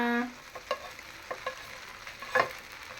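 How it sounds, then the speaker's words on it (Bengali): Vegetables being stir-fried in ghee in a pot: soft, quiet sizzling broken by a handful of sharp spoon-and-pan stirring knocks and scrapes spaced through the moment. "ঘিয়ের মধ্যে ভেজে নিলাম আর এখন যে আমার সবজিগুলো দিয়ে দিতেছি"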